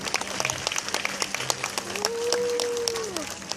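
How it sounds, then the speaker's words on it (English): Audience at a Texas State Aquarium show applauds with dense, steady clapping throughout, joined midway by a single long whistle-like tone. "Let's give her a round of applause."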